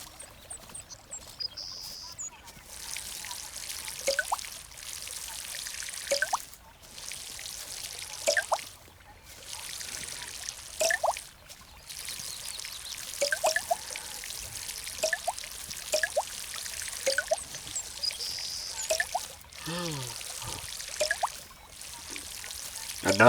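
Water pours into a container in a series of short, separate bursts spread through the clip. Each pour is fairly close, with brief gurgling splashes and quiet gaps between them.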